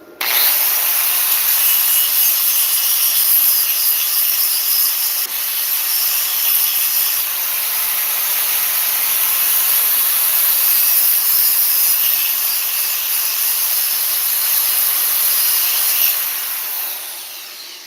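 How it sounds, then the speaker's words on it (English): A power grinder works steadily on the edges of a metal extension piece for a gate tube, a continuous loud abrasive whine with no pauses, tapering off at the end. "I got to take and grind the edges, so make sure that it has good fusion"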